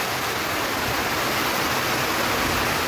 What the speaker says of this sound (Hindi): घर आते ही जो है बारिश जो है और भी तेज़ हो गई है, तो मैं आपको दिखा देता हूँ